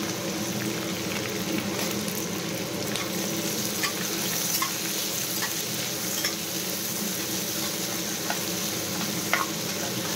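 Onions fry in a little oil with a steady, fairly quiet crackling sizzle that continues throughout, with faint occasional pops and light stirring.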